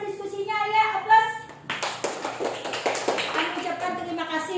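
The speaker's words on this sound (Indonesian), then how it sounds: "Kita beri tepuk tangan dulu untuk kelompok 2 yang mempresentasikan hasil diskusinya ya" A classroom group applauds a presenting student group, a burst of scattered hand clapping from several people after a speaking voice, with voices continuing around it.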